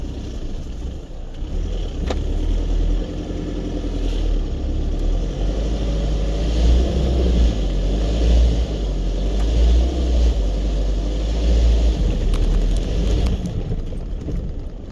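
Isuzu D-Max pickup labouring in a near-stuck spot off-road, its engine droning loud and steady with low rumble throughout, surging slightly as it strains for grip.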